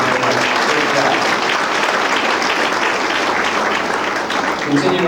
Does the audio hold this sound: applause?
yes